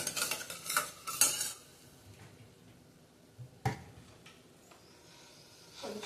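Drumstick curry frying in a pan while being stirred, with several brisk scraping and clinking strokes at the start, then quieter sizzling and a single sharp clink before stirring picks up again at the end.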